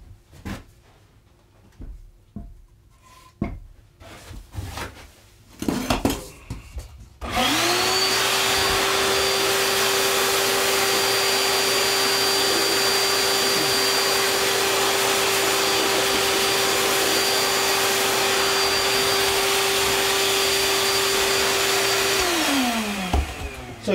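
Power sander working a wooden wall art piece, starting after a few scattered knocks and handling noises, then a loud steady whirring drone with a constant motor whine running about sixteen seconds before cutting off.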